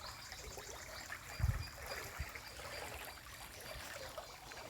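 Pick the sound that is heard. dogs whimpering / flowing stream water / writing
flowing stream water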